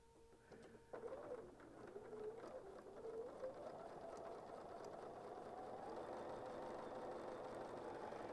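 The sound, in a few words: sewing machine stitching quilt triangles together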